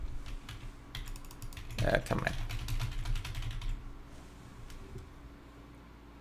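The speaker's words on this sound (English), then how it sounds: "I think my keyboard literally just died now." Rapid, uneven clicking of keys on a computer keyboard, close and steady for several seconds, with a brief spoken remark partway through.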